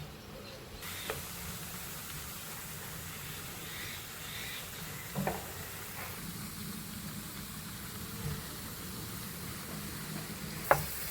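Ginger frying in hot oil in a pan until it browns, giving a steady close sizzle with a few faint clinks and stirring sounds and no talking.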